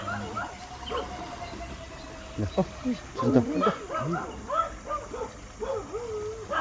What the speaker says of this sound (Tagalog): Kaya pala maingay yung aso?